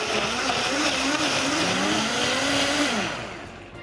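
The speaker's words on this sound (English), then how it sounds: "So I usually let that blender go for at least a minute just to make sure that everything is super pureed and smooth." Blender pureeing a green smoothie with chia seeds, a loud continuous whirring roar whose motor pitch slowly rises and falls before easing off at the end.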